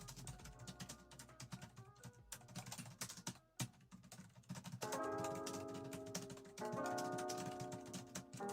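Fast, continuous typing on an Arteck 2.4G wireless keyboard during a typing race, with dense quick key clicks, brief pauses and a few louder bursts, close and alone.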